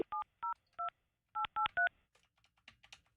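Telephone keypad dialing tones, eight crisp evenly spaced beeps in two quick groups followed by faint clicks and rustle, close and alone.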